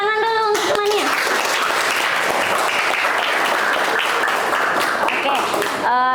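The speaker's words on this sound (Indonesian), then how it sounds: "Tepuk tangan dulu untuk temannya." A class applauds a classmate in an Indonesian school counselling lesson, steady dense clapping filling the room for several seconds, with a teacher's voice briefly heard at the start and end.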